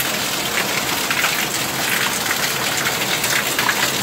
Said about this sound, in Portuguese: olha aí a chuva caindo, olha aqui é água